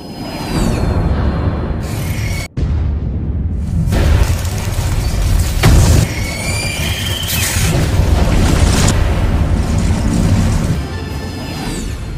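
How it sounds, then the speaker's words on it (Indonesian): A loud, rumbling blast with crashing debris, followed by a sustained roar and scattered booms, dense and close throughout. "Dan setelah semuanya selamat, ledakan pun terjadi."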